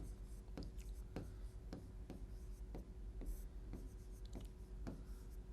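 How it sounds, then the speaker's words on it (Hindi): Handwriting during a Hindi biology lesson on environmental conservation, a quiet series of regular scratching strokes spaced about half a second apart, close by with no talking. "पहले लिखते हैं"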